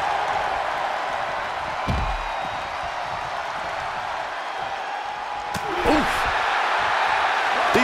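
Crowd cheering in the wrestling video game WWE 2K24 during a Hardy Boyz versus Big Boss Man and Dudley Boyz elimination tag match, a steady arena roar with a slam thud and swelling noise near the end, under a commentator's voice.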